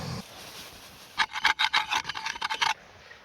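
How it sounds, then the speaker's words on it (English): Mash scraped and stirred in a pot in a rapid run of rough, rasping strokes, close and fairly loud, following a brief quiet pause, with no talking. "Get a bit of mash going too"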